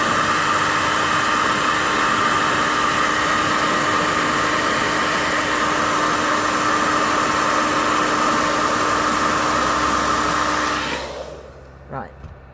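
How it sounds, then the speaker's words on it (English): A hairdryer blasts steadily and loudly on eyelashes for about eleven seconds, a continuous broadband whoosh with a faint motor hum, then cuts off abruptly, leaving a quiet room with a small bump at the end. "And then another blast with the hairdryer."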